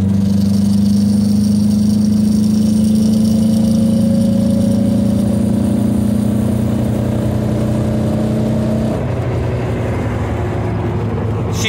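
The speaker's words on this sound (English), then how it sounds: "I want to see what happens when I go wide open throttle." Car engine under load at wide open throttle, a steady loud droning hum with a rising tone that holds for about nine seconds, then drops off near the end.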